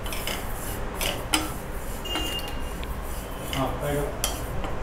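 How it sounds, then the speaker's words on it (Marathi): Sesame seeds dry-roasting in a pan for Maharashtrian tilgul, heard as steady scraping and rasping of a utensil against metal, with light clinks throughout and no voices. "आता तीळ भाजून घेऊयात आपण"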